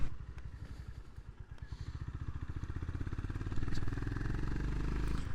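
A Honda GB350S single-cylinder motorcycle thumps along around town, its distinct low pulses clearly spaced and quickening slightly as it picks up pace, over light wind noise.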